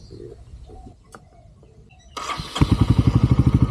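A motorcycle is cranked and fires up, then idles with a steady, loud pulsing chug close by. Faint chirps and a few voices can be heard before it starts.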